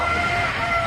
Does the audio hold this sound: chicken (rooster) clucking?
yes